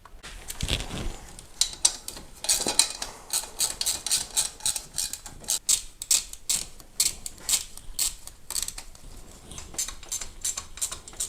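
A wrench tightening bolts on a VW Bora 1.6L engine during a timing belt job, loud rapid ratcheting clicks in repeated bursts with short pauses, close and mechanical, no talking.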